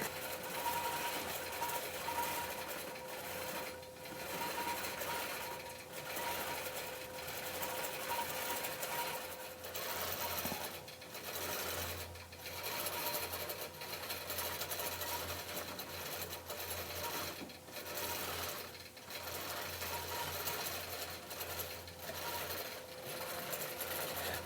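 A quilting machine stitches a pebble pattern on a wool panel, a continuous fast mechanical chatter with a steady hum and rhythmic pulsing of the needle, close and unbroken for the whole stretch.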